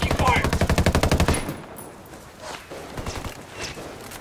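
Rapid automatic gunfire from a video game rattles loud and close in a fast regular burst, then cuts off, leaving scattered lighter thuds and distant shots over low background noise.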